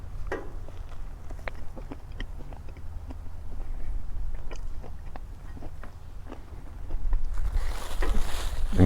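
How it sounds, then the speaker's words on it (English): Close chewing and munching on a simple pork sandwich, with crisp bite crunches scattered over a low rumbling background. "I'll just take a human bite."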